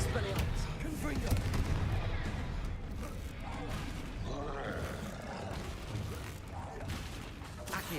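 Spell blasts burst repeatedly in the wizarding game Hogwarts Legacy during a fight, dense booming impacts layered over constant loud game noise, with a player's voice talking throughout.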